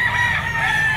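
A rooster crows loudly and close at an outdoor gamecock market, one sustained strained call filling the whole moment, with other fowl clucking faintly behind it.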